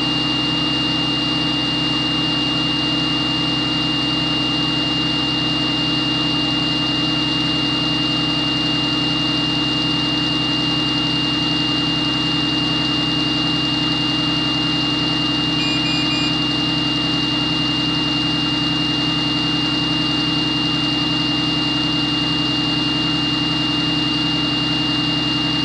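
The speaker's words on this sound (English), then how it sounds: "I'm going to put the high idle on. So what that does is it revs up the engine to get the air pressure built back up." School bus diesel engine held at high idle to rebuild air pressure, a loud, steady, unchanging drone with a constant low rumble and a high whine running the whole time, no voices.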